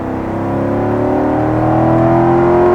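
A race car in a racing video game accelerates hard, its engine note rising steadily in a loud, sustained drone that climbs in pitch as it builds speed down the straight.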